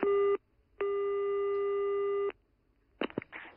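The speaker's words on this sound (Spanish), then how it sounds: "Que no cogía el teléfono, que estaba comunicando." A telephone busy signal tone: a short beep, a pause, then a long steady tone lasting about a second and a half, clear and close, followed by a brief burst of rustling handling noise at the end.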